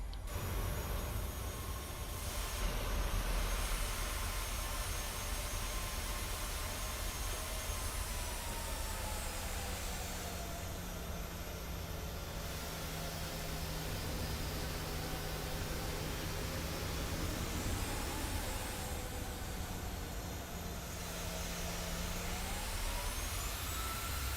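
A Boeing 737-700 in a flight simulator taxis on one engine, its jet whine and broad roar holding steady and loud for the whole stretch, with slow pitch swells as thrust changes and no voices.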